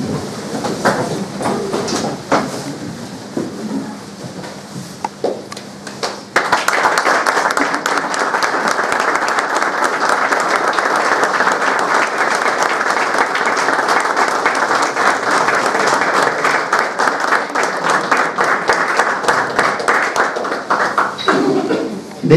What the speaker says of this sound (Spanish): Despedimos con un afectuoso aplauso la bandera de ceremonia.